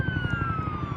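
A steady, wailing video-game police car siren holds over a low rumbling engine drone, close and fairly loud, with no voices.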